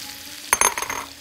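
Minced onion hits a hot pan while sausage with vegetables is being cooked, giving a short, close sizzling burst with a few quick clatters that trails off after about half a second of quiet.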